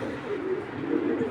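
Racing pigeons in a loft give soft, low, rolling coos, close and continuous over a quiet background.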